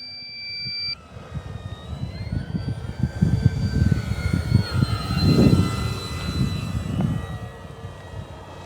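An Arrows Bigfoot 1.3 m RC airplane on a 3S battery takes off with flaps deployed, its electric motor whining steadily and swelling as it climbs away over outdoor wind noise.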